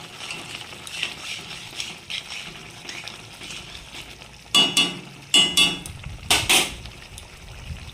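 Ghee goes into a simmering pointed gourd curry (doi potol) in a home kitchen, with several loud metallic clatters and scrapes of a spoon against the pot over a soft background bubbling, no talking.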